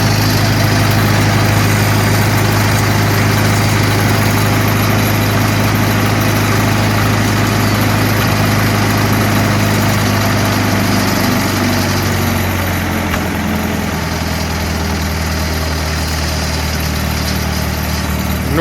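An SA 200 engine idles with a loud, continuous low drone that stays steady and close throughout, with no talk over it.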